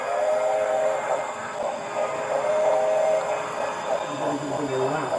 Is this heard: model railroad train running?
yes